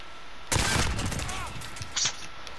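Rapid gunfire in Call of Duty: Modern Warfare, a dense close burst of shots starting abruptly and trailing off, with a second short volley near the end.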